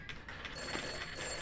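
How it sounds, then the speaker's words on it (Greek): A telephone rings inside a paranormal horror video game set at a children's summer camp, a steady loud metallic bell ringing that fills the short moment with no voices. "Χτυπάει το τηλέφωνο, παιδιά."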